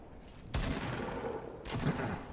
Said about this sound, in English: That guy sniped me right as I came around the corner, man.